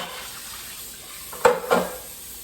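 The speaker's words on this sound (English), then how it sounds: "Let me wash these dishes," Dishes are washed under a running kitchen tap during holiday cleaning, a soft steady water hiss with two brief louder splashes or clatters near the middle.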